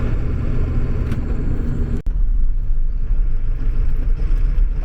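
A steady low rumble from a Ford 7.3 Powerstroke diesel truck with an upgraded turbo, heard from inside while driving, loud and constant with one brief dropout.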